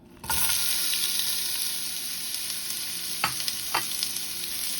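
Onions dropped into hot oil in a pan on high heat for Vietnamese crab noodle soup, setting off a steady, loud sizzle that holds throughout, with a couple of brief scraping stirs near the end.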